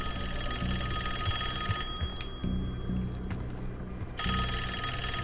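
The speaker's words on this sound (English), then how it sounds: "Can I answer the phone?" An in-game telephone rings in the Call of Duty: Black Ops 6 video game, a bright bell-like ring that stops for about two seconds and then resumes, heard alone at moderate volume over a low background hum.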